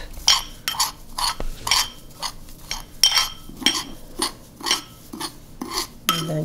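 A metal spoon stirring half a teaspoon each of salt and pepper into a dry seasoning blend, with rhythmic clinks and scrapes against the bowl, close and fairly loud, repeating steadily.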